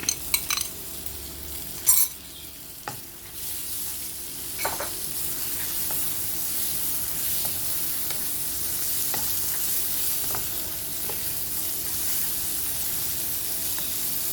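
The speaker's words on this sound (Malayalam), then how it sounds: "ഇത് ചെമ്മീൻ വേവുന്ന വരെ നമുക്കിത് ഇളക്കി കൊടുക്കണം" Chopped prawns stir-fry in a pan with pepper powder, starting with a few clattering knocks of the utensil against the pan, then settling into a steady, close hiss of sizzling with faint occasional scrapes.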